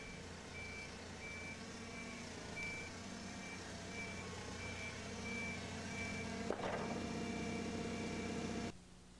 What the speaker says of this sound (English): Here the forklift is traveling slower than it did in the actual mishap